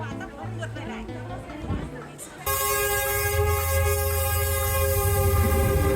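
A train rolls through Hanoi's narrow Train Street, close and loud, its sustained horn blaring with a rumbling undertone after a few seconds of quieter street ambience.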